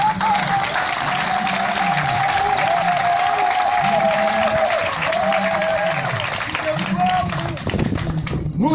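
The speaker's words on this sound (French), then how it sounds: "Il faut applaudir le président Gbagbo Laurent." A crowd at a gathering honoring President Laurent Gbagbo of Côte d'Ivoire claps loudly and steadily for several seconds, with shouting voices and a speaker talking over the applause.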